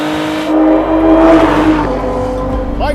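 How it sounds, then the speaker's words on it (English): A Lotus Emira's supercharged V6, a Camry-derived engine fitted with a Lotus supercharger, revs up briefly and settles back, a smooth rising and falling engine note heard close and alone. "I've chosen the same engine that's in this vehicle, the supercharged V6."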